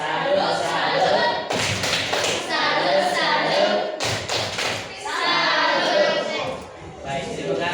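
A classroom of pupils does a rhythmic 'tepuk salut' clap cheer, with repeated hand claps and thumps mixed with children's voices and chatter. The sound is loud and close, with a brief lull midway.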